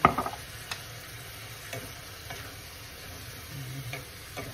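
Pork with shrimp paste (bagoong) frying in a pan for Bicol express, with a soft, quiet sizzle and scattered stirring scrapes that are strongest at the start.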